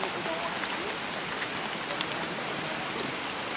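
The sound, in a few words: rain falling near rice fields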